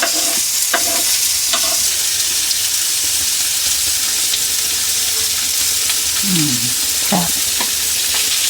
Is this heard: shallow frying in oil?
yes